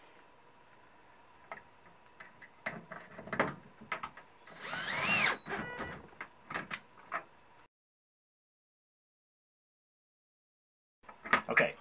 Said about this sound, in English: I've got my screw gun in my left hand because that's what's comfortable